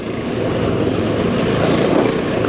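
A motorcycle ridden along a road gives a steady, close engine drone mixed with rushing wind noise, continuous and fairly loud throughout with no talk.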